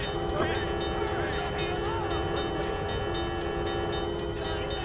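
A vehicle horn honks in the video game Grand Theft Auto 3, a sustained tonal blare with clicking and rumbling traffic noise beneath, loud and continuous for several seconds without talk.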